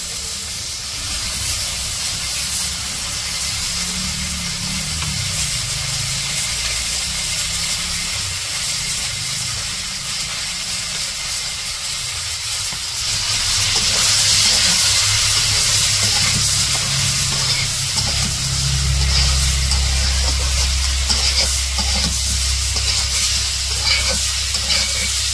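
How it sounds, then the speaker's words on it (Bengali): Eggplant frying with onion and green chillies in a village kitchen gives a continuous loud hiss and sizzle, close and steady, swelling louder partway through with a low rumble underneath. "পেঁয়াজ কাঁচামরিচ মিশিয়া আর কিছুক্ষণ ভেজে নেব"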